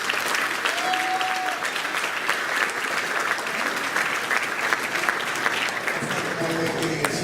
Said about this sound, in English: I would like to have the alumni, past graduates of Candor High School, please applaud for a second